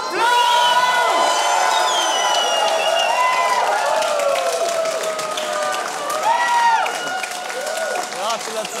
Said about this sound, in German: Publikumsliebling mit 527 Stimmen. Team Deutschland, Applaus!